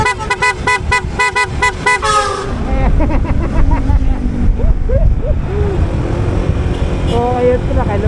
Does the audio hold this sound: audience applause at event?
no